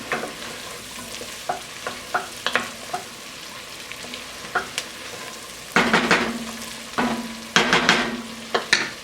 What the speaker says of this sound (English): I'm going to add the thyme and the rosemary right on in there. Stir that up as well.